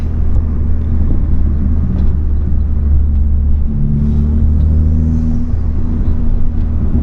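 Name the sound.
Ford Focus MK3 turbo engine while driving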